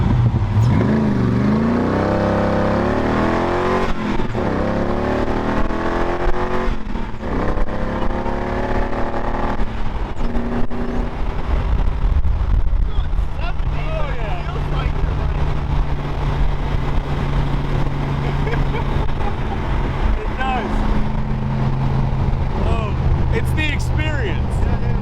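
A 1965 Cobra with a 302 crate V8 rumbles loudly, revving up with rising and falling engine pitch before settling into a steady idle, with wind buffeting and voices talking over it.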